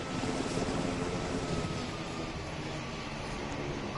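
A plane taking off in the Roblox flight game PTFS, a steady engine roar with a faint whine held at even loudness throughout, with no voices over it.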